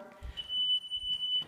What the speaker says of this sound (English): It might be either the smoke detector or some kind of alarm.